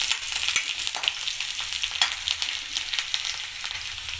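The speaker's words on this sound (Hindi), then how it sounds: "ये देखिए लहसुन थोड़ा सा भुन चुका है, ज़्यादा नहीं भुनना है इसको।" Garlic and green chillies fry in hot oil in a pan, giving a loud, dense, continuous sizzle and crackle up close, broken by a few faint stirring scrapes and no voices.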